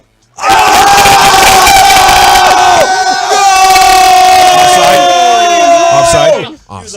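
A crowd packed into a room watching a soccer match erupts in loud, sustained cheering and shouting that lasts several seconds before cutting off.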